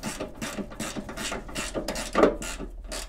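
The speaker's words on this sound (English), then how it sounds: "grab your 1/4 inch ratchet again with the 10 millimeter socket and remove that." A 1/4-inch ratchet with a 10 mm socket backs out a bolt on a 2008 Chevy Suburban headlight assembly, giving a steady run of quick, close clicking strokes in repeated bursts with no talk.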